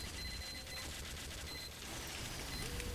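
A sentry turret in Team Fortress 2 Mann vs. Machine fires dense, continuous rapid gunfire that is steady and fairly close throughout, with faint electronic game tones in the mix.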